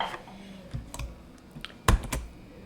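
Several keys are tapped on a computer keyboard for a shortcut, a sparse run of close, crisp clicks with one sharper, louder press near the end.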